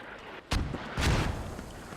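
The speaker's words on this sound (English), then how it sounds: "So these mortars coming in strong right now." Mortar fire in a video game battle during a competitive group-stage match, with two heavy booming blasts about half a second apart, each followed by a rumbling tail, loud and close.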